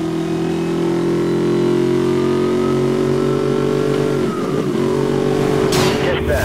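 A silver Jaguar's engine revs steadily in Need for Speed Most Wanted, a sustained mid-pitched drone that wavers and dips before a sharp burst near the end, with police radio chatter over it.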